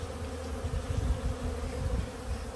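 Honey bees working at their hive, a dense steady buzzing drone of many insects close by, with no talk over it.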